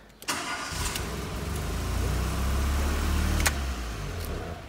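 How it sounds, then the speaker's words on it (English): Renault Twingo engine cranks and catches, settling into a loud, rough idle that runs steadily close by, with a sharp click near the start and another mid-way. "Car is starting."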